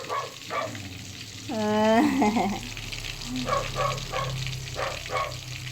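Fish frying in a pan with a steady soft sizzle underneath, while a dog whines and barks briefly and a voice speaks intermittently.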